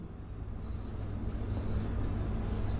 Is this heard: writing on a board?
yes